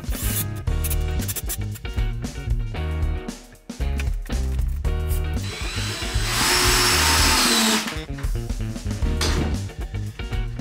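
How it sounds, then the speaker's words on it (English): Power drill driving screws into wood for an outdoor round garden table, with repeated short whirring bursts and one longer high-pitched run, plus knocks and handling noises between them. "I'll screw this end in first, make sure it's all pushed together, and screw the other end in."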